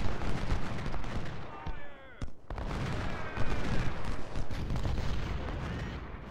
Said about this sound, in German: So, jetzt können die auch schießen.